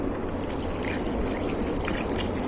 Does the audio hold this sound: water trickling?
yes